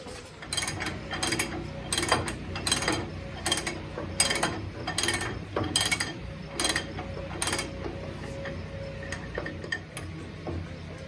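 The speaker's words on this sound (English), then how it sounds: "I found my 3/4 inch drive socket. Let's try this." A 3/4 inch drive socket ratchet works on a tractor part with a run of rhythmic clicking strokes, roughly a dozen evenly paced ratcheting bursts close by. No one talks over it.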